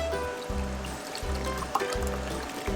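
Water trickles and splashes steadily as it is poured into a cup for a customer, close and continuous, with a soft thumping rhythm underneath and no talk.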